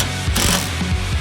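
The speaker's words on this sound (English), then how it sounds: "After it's drilled, it's an easy socket wrench twisty time to bolt it in." A socket wrench ratchets a bolt home while mounting an LED light pod on a Nissan, giving quick close clicking pawl strokes in a short burst.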